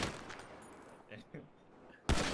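Gunshots in the video game Marbella Vice 2: a faint stretch of background game sound, then a sudden loud burst of gunfire near the end.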